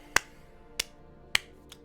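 A single sharp hand clap rings out in a quiet room, followed by a few more spaced claps, each crisp and brief with a short decay.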